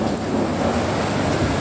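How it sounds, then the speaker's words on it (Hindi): Rain falls on a small home garden at night, a steady, fairly loud hiss with a low rumble underneath and no one talking. "अभी बारिश पड़ रही है।"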